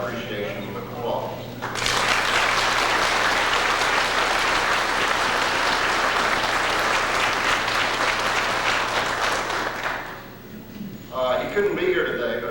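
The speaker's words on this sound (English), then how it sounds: "I'd like for us to take a few moments to express our appreciation with applause" Audience applause at a technology center dedication ceremony, a sustained burst of clapping from a seated crowd lasting about eight seconds after a speaker's line, with voices briefly before and after.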